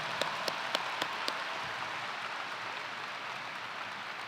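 A few scattered claps open a soft, wide patter of applause from a convocation audience at UW-Madison, heard from a distance, fairly faint and even, with no one speaking.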